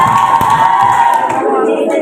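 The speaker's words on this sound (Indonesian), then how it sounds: "Tepuk tangan untuk paslon 3." Crowd of students and teachers at a school democracy event cheers and claps for a candidate pair, a steady dense roar of applause and shouts that thins slightly toward the end.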